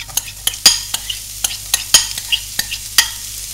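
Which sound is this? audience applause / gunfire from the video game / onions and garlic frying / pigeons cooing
onions and garlic frying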